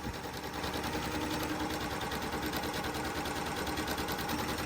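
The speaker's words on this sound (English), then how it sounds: "I want to go ahead and sew this whole piece without stopping." A Janome Continental M6 runs continuously at speed while stitching a quilt piece with a quarter-inch seam, giving a steady, even mechanical whir and rapid needle chatter that holds without pause, close but fairly quiet.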